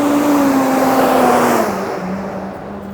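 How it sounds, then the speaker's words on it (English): A noisy school bus roars past on Bathurst Street in downtown Toronto, a loud, close engine drone with a whining tone that drops in pitch and fades as it moves away. "That was a rather noisy school bus."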